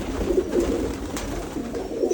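Pigeons coo nearby at a pigeon fair in Bogura, repeated low, throaty murmurs, several soft calls in a loose rhythm over faint background noise.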